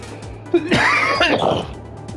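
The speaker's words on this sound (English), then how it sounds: "Really having a lot of trouble with the coughing" A person coughs and clears their throat, one harsh raspy burst followed by a rough gravelly hack, close to the microphone with a faint steady hum underneath.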